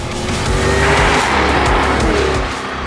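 Jaguar F-Type R with a 5.0 supercharged V8 driving hard, a loud, close engine roar swelling and easing with tire squeal through the middle, heard alone.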